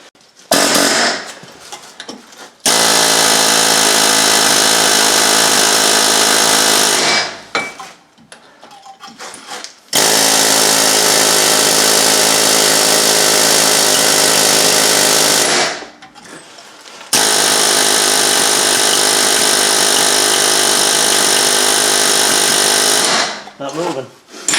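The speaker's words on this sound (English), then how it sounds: "I think I'm going to get my air hammer though" Long bursts of loud pneumatic air hammering on a 2005 Suburban's front wheel hub, three sustained runs separated by brief pauses, close and harsh.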